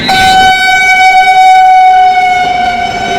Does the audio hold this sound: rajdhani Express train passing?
yes